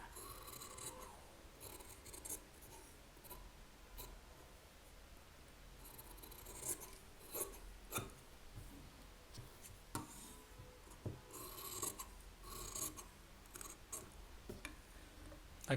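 Scissors snip through blouse lining fabric in a quiet, irregular series of crisp cuts and soft rustles, close and without talk.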